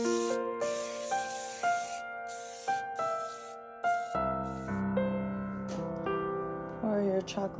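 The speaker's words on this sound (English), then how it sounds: "spray with a non-stick baking spray" A hissing aerosol spray of non-stick baking spray onto a parchment-lined pan in repeated short bursts, set against steady tonal background music.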